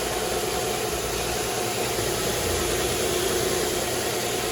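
A 2005 Nissan Altima engine idling with its AC compressor clutch pulley spinning freely, a steady even hum and whir with no knocks or rattles, held at constant level throughout.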